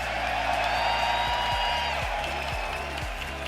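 A large crowd at the RLCS Boston Major Rocket League esports event cheers and claps in a continuous roar, with whoops rising over the noise and a low rhythmic thumping underneath.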